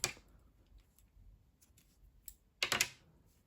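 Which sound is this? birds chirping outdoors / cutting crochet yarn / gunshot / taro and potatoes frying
cutting crochet yarn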